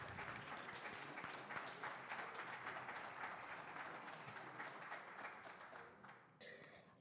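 Sustained applause from a board meeting audience honoring students, dense and steady for about six seconds before fading and breaking off near the end.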